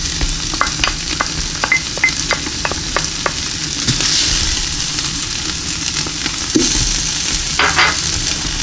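Garlic added to tomato paste sizzles and fries steadily in a pot during homemade meat pasta sauce, with a run of quick scraping stirs near the start and a louder burst of sizzle midway, no voices.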